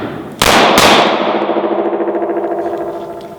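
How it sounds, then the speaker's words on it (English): Two pistol shots fired from inside a coat pocket, a pair of sharp, loud cracks less than half a second apart, followed by a long ringing echo that slowly decays. "I got 2 shots off. You heard those and saw those."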